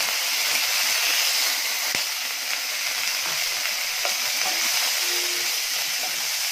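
Sliced small shallots frying in hot oil in a pan for South Indian mor kuzhambu, a steady, close, loud sizzle with light stirring, no talk.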